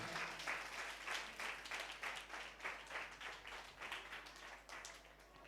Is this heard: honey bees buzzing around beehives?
no